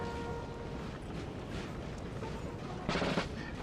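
Musket gunfire in a Napoleon Total War 3 online battle, a faint, continuous crackle of massed volleys with one slightly louder burst near the end, distant and muffled.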